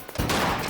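Gunshots ricochet in the Metal Gear Solid video game as a dense burst of gunfire with sharp metallic pings. The shots run together quickly and sound moderately loud.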